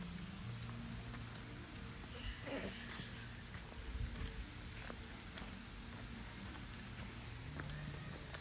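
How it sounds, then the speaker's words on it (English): Light misty rain falls as a faint, steady, even hiss with soft scattered patter and no voices, heard at a low level throughout. "misty rain almost"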